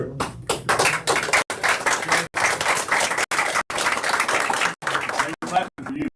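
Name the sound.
applause, audience clapping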